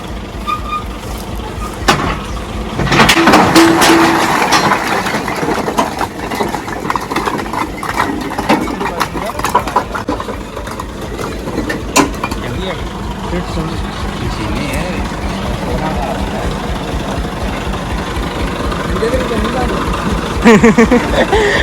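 A heavy tractor engine rumbles steadily throughout at close range, with people talking over the noise.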